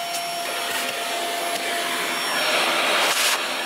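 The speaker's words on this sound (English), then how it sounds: "Did you vacuum this part yet?" A vacuum cleaner runs steadily indoors with a loud, continuous whining hiss that stays close, with a few brief shifts in pitch as it moves across the floor.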